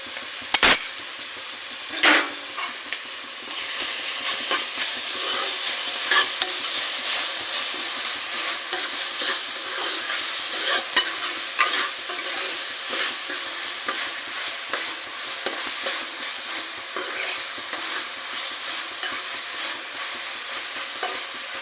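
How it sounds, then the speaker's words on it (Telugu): Ginger garlic paste fries in a bitter gourd masala curry, sizzling with a steady bright hiss while a utensil scrapes and stirs the pan close by, with a couple of sharper knocks and no speech. "అల్లం వెల్లిపాయ పేస్ట్ వేసుకుంటున్నాం సార్"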